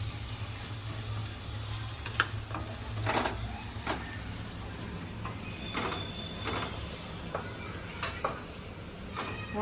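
Chopped onion frying and browning in a pan for pasta, a steady close sizzle running throughout, with a few soft stirring scrapes and clicks breaking through.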